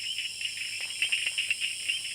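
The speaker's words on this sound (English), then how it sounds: "That is the Tinker Reed frog, a very, very pretty frog indeed." Tinker Reed frogs call in the wild with rapid, high, clicking pulses repeated in short bursts. The calls sit over a steady shrill chorus like insects and are moderately close with no voices.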